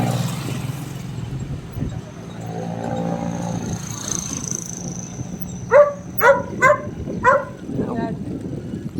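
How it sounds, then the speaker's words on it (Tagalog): A dog barks at passing cyclists on a group road ride, four sharp close barks in quick succession over road and wind noise, with people talking around it. "May isa pang aso, Nebs."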